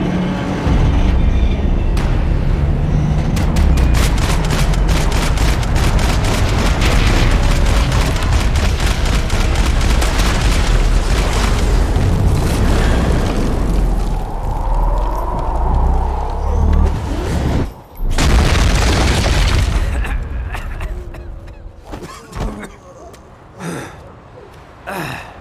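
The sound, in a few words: gunfire and explosions in Max Payne 3 video game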